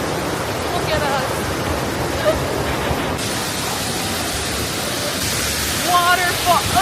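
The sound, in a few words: waterfall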